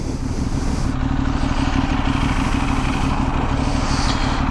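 A Benelli Leoncino 800 Trail motorcycle engine runs steadily nearby with a deep, throbbing rumble, loud and continuous, heard alone without talk.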